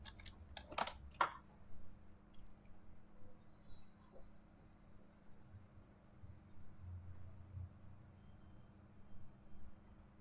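A short burst of computer keyboard typing as a search is entered, a few quick clicks near the start, then quiet room hum with faint background rumble.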